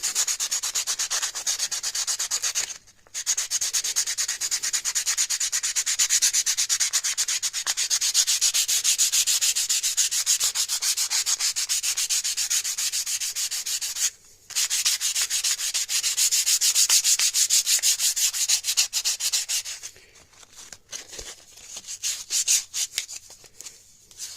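Steady scratchy sanding of a wooden gunstock, a continuous rubbing hiss with two brief pauses and a rougher, choppier stretch near the end.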